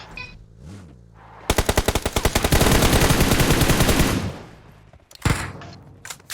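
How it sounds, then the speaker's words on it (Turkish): A sustained burst of rapid automatic gunfire in PUBG Mobile, loud and close, lasting a few seconds, bracketed by scattered thuds and quieter game sounds. "Dışarı çıkın ateş edeceğiz."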